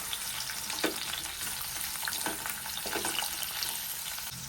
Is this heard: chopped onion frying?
yes